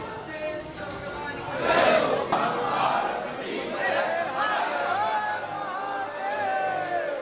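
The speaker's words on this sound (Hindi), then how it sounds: "हर हर महादेव के नारे से सुबह से ही देखिए मंदिर गूंज उठा है।" A large crowd of devotees chants Har Har Mahadev at a temple on the first day of Sawan, a dense, continuous roar of many voices echoing at moderate loudness.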